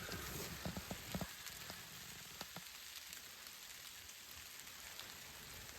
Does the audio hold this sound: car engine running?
no